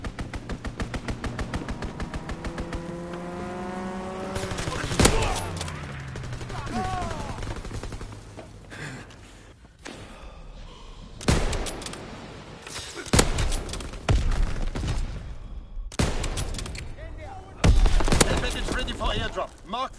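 Rapid machine-gun bursts from an aircraft strafing run in a WW2 video game rattle loudly and repeatedly, mixed with game effects and voices talking.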